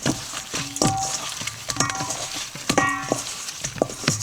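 Raw chicken legs being tossed with avocado oil in a bowl, giving a run of close, wet clattering and squelching strokes that repeat irregularly with short pauses between them.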